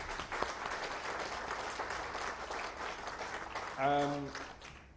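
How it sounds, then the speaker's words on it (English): Applause at a dinner for Islamabad-based diplomats, steady scattered clapping from the room, with a voice speaking briefly over it near the end. "And a round of applause for all of them."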